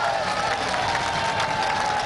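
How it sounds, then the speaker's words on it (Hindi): Audience applause at a political rally in Pakistan, a dense, steady wash of clapping from a crowd, continuous and fairly loud for the whole moment. "ताली दो बजा दे आप मेरे साथ मिलके"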